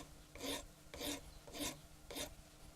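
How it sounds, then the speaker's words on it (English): Hand file rasping across a piece of wire to shape a flat, angled cutting edge: four slow, even strokes, each a gritty scrape, close and quiet with nothing else in the background. "So the next thing to do is to file this flat to an angle, which is going to form the cutting edge."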